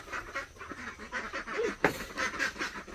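Farm ducks squawk and honk in a noisy flurry as they are grabbed and caught, harsh overlapping calls rising and falling with one sharper cry near the middle.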